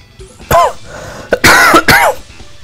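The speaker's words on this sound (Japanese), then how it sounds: "咳が止まらない。" A few harsh, loud coughs close by, coming in quick bursts with short gaps, the first one standing alone before a tighter pair.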